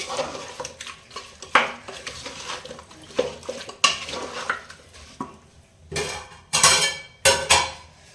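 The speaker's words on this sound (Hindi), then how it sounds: "अब इसको जो है ना अच्छे से मिक्स कर ले रही हूँ।" A metal spoon stirs meat with spices in a cooking pot for a Hyderabadi potato, okra and mutton stew, with repeated clattering scrapes and knocks against the pot over a low sizzle, loudest in a burst of strokes near the end.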